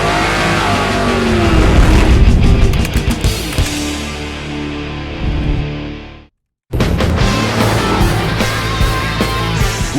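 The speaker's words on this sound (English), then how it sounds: "we'll show you a sound comparison test on this, a 2011 5-liter Ford Mustang" A 2011 Ford Mustang with the 5.0-litre V8 and an aftermarket stainless axle-back exhaust revs loudly and close, its engine note climbing and falling, dropping to a brief silence, then roaring back.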